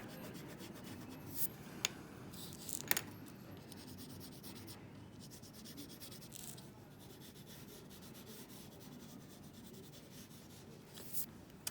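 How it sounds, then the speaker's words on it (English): An eraser rubs back and forth over a pencil drawing on paper, a dry, steady scrubbing with a couple of brief sharper scrapes, close and fairly quiet, with no talking. "Erase, erase, erase."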